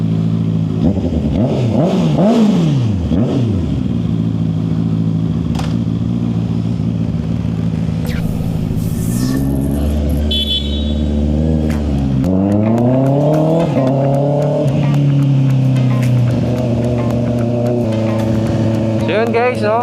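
Honda 1000cc superbikes race around a track, their engines roaring loud and continuous, with rising and falling revs as the bikes accelerate, shift and pass.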